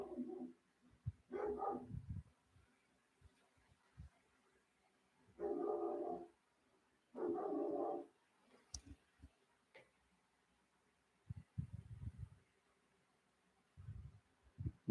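A dog barks in short bursts, several separate woofs spaced apart at moderate distance, with quiet pauses and faint ticking in between.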